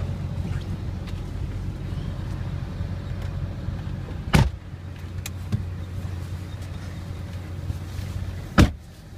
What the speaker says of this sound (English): Let's take you on a short test drive.